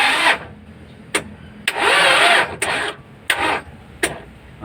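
The starter on an old-model Mitsubishi L300 van, loose in its mounting, cranks the engine in several loud, close bursts. Each burst is broken by sharp clicks, and the engine never catches.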